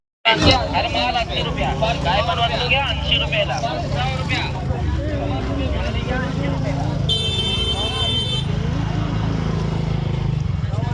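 Crowded street at the Datt Yatra fair in Alibag, where vehicle engines rumble and a horn blares for a moment amid steady crowd babble, with nearby people talking over the traffic.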